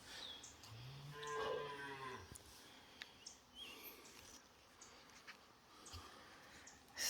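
A cow on a hillside farm gives a single drawn-out moo early on, fairly close, followed by a quieter outdoor morning ambience with faint insects, birds and scattered small knocks, and no talking.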